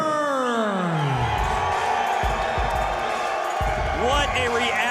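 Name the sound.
crowd cheering as fighter Lee Burns enters the cage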